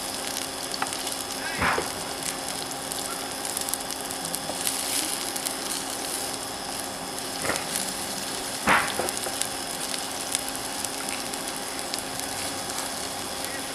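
Spinach fritters (bora) frying in hot oil give a steady, close sizzle throughout, with a few sharper pops and clatters from stirring at scattered moments, and no voices.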